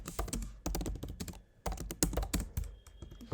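Rapid bursts of typing on a computer keyboard while entering call-to-action text in a website builder, keys clattering close up in quick clusters with short pauses between them.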